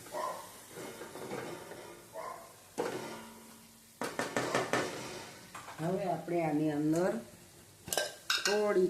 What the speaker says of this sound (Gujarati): અને હવે આપણે આને હલાવીશું થોડું